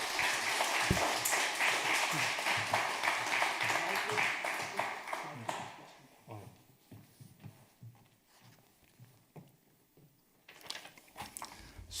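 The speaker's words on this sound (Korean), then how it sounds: "나오실 때 크게 환영의 박수 부탁드리겠습니다." Applause from a Korean church congregation during a Sunday afternoon worship service, welcoming a speaker; dense clapping for about five seconds fades away, then someone talks over a quiet room with a brief burst of claps near the end.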